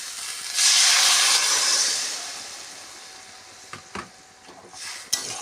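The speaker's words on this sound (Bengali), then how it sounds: "এবার পরিমাণ মতন জল দিচ্ছি" Water poured into a hot pan of small fish cooking with ridge gourd and potato bursts into a loud hiss and steam that gradually fades, followed by a few clinks of a spoon stirring.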